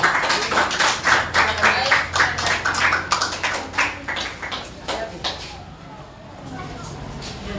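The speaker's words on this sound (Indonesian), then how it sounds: "kita beri aplaus untuk kelompok 3 yang telah presentasi" Classroom clapping for a student group after its presentation, with brisk overlapping hand claps that are strong at first and then thin out and fade.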